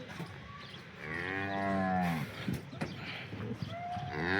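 Cows mooing at a cattle sale near Vadnagar, with several long, close, loud moos in succession, one rising call followed by another after a short pause, over a busy background.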